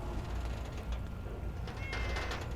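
A cat in the Fallout 4 video game meows over a steady low game ambience, the cry faint and brief, with no talking.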